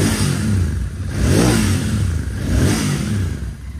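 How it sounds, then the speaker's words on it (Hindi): A Royal Enfield GT-650 twin-cylinder motorcycle running on its stock exhaust, a loud close engine note that swells in three smooth revs with a low rumbling pulse and no talk. "ये हमारा जीटी की साउंड जो कि है स्टॉक एग्जॉस्ट से।"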